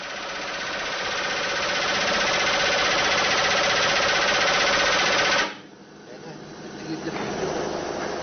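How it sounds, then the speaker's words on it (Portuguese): Pneumatic riveting hammer driving red-hot rivets on a railway bridge, a loud continuous rattling hammer burst lasting several seconds that cuts off abruptly, leaving quieter background noise. "O martelo de cravação agora é pneumático"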